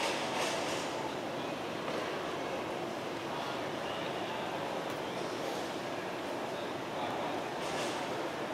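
An Airport Express train pulls into a Hong Kong metro station platform, a steady close rumble and rolling rail noise with faint clatter throughout, while a voice talks faintly in the background.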